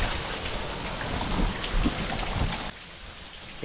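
Heavy rain pours down in a dense, steady hiss with low rumbling, then drops off abruptly near the end to a quieter patter.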